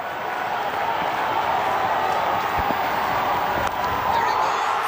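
Cricket crowd at Kingsmead roaring and cheering as a batsman chases six sixes in an over, a dense, sustained wall of voices at steady loudness throughout.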